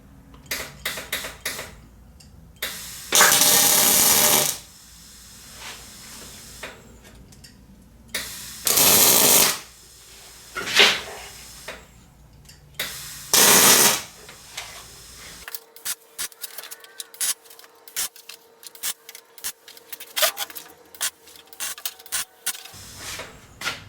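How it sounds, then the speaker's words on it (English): Short bursts of MIG welding on steel as tack welds are laid, a few loud crackling buzzes of about a second each separated by quieter shop handling noise, with a steadier hum and light clatter toward the end. "Let's MIG weld this thing."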